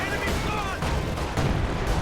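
ISU-152 tank guns firing on infantry in a video game: a dense run of booming, crackling shots over a couple of seconds, with someone talking over the gunfire.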